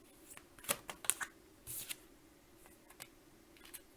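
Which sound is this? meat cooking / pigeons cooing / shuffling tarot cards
shuffling tarot cards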